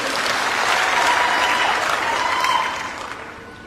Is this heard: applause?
yes